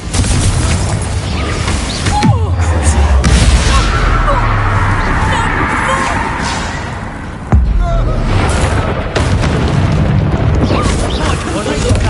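Booming spell blasts from a Bombarda casting during combat in Hogwarts Legacy on PS5, with loud bursts around the two-second and seven-second marks over a dense, continuous wash of battle effects and music.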